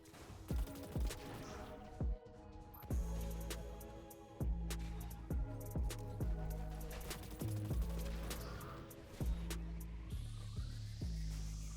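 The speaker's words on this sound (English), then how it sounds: "Shoot the 3 totems you see here" Gunfire from Destiny 2 shoots down three totems: a run of sharp, evenly spaced shots with heavy low thumps, repeating at a steady pace over game music.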